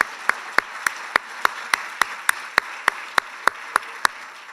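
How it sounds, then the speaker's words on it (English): A realtors' business conference audience is asked to stand and applaud. Instead, a single sharp clap repeats at a steady, regular beat, loud and close, over a faint room murmur. "If you would please stand and give a round of applause."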